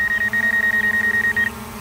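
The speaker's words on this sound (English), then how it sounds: "That beeping noise is the obstacle avoidance beeping." A rapid series of high, even electronic beeps, the obstacle avoidance warning of a DJI Mavic Air 2 drone, repeating steadily for over a second over a low hum, then stopping.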